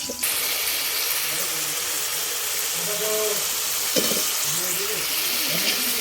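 Spices fry in hot oil in a pan for a fish curry with pointed gourd and potato, giving a steady sizzle with occasional scraping and stirring clatter, close and continuous.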